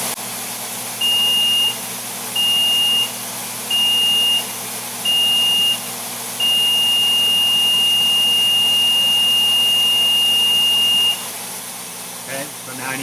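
ApolloSpray digital turbine sprayer running in power pause mode gives a steady high whine, with four short beeps followed by one long sustained tone and a loud constant hum underneath, while someone talks over it.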